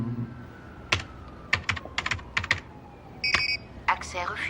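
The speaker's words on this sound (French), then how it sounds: "Chaque doigt exerce sa pression sur le clavier, les sons produits vont donc être différents." Quick, uneven keystrokes clatter on a computer keyboard, close by, followed by a short electronic beep and a few more taps.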